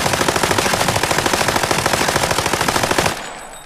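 An MCX rifle in the game Arena Breakout fires a sustained fully automatic burst, rapid evenly spaced loud shots for about three seconds before stopping abruptly into a fading echo.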